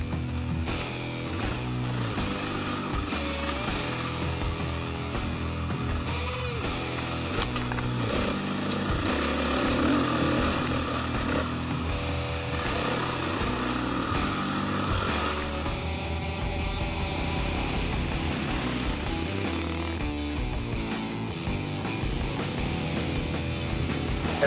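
KTM 500 EXC dirt bike ridden around a local motocross track, its engine droning steadily with revs rising and falling through the whole stretch, heard from a distance and fairly faint, with no voices.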